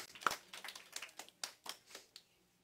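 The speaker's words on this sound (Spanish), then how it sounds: "Denle un fuerte aplauso al Señor." A church congregation claps in scattered, uneven bursts, quiet and somewhat distant, with individual hand claps standing out rather than a full ovation.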